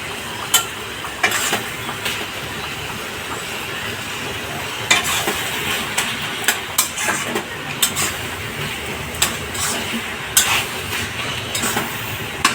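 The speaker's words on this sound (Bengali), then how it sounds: "একটু খুন্তি দিয়ে এরকম চেপে চেপে চেপে যাবেন, মিশে যাবে।" A spatula stirs and presses cabbage curry in a pan, giving a steady close sizzle with repeated sharp scrapes and taps of metal against the pan, alone with no voices.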